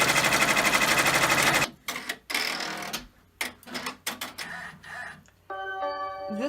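An embroidery machine stitching an in-the-hoop apron design: a fast, loud, even rattle of needle strokes that stops after a moment, followed by scattered clicks and a short beeping tone near the end.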